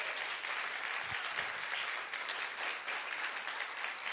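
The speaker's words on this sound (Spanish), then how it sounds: "Dele una ofrenda de palmas al Señor" A church congregation at a retreat in Canada breaks into steady, dense applause that holds for several seconds, a continuous wash of many hands clapping with no voices over it.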